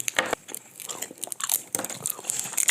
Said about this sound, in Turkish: Hepsini aynı anda nasıl çiğneyeceğim?